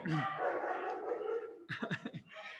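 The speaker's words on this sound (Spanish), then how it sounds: "Acá tenemos un concierto de perros que hacen la competencia" Several dogs bark and yip in a loud, overlapping jumble, close by, with a few sharper barks standing out near the end.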